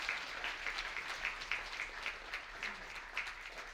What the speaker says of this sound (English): A big round of applause for our testimonial.